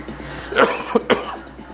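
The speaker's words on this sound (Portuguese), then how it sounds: "É tosse terrível" Two sharp, dry coughs half a second apart, close up, with no talking around them.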